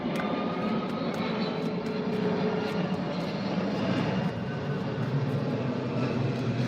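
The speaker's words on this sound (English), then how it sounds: "This plane just keeps flying over" Steady, continuous propeller-engine drone of an airplane passing overhead, a loud broadband roar that holds evenly throughout with no talk.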